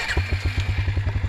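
A vehicle engine idles on a farm homestead with a close, steady, rhythmic low chugging, each pulse evenly spaced, running alone without voices.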